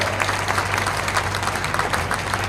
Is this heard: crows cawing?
no